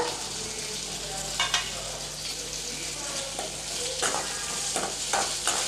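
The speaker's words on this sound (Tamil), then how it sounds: "ஆயில் சூடாகிடுச்சு கட் பண்ணி வச்ச வெண்டைக்காவை சேர்த்துக்கலாம்" Cut okra fries in hot oil with a loud continuous sizzle, while repeated bursts of spatula scraping and stirring rise over it at close range.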